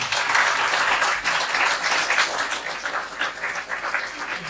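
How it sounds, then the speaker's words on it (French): An audience at an evening talk gives a speaker a round of applause, brisk clapping from a modest room of people, steady at first and gradually thinning, with no voices over it. "Je crois qu'on peut l'applaudir."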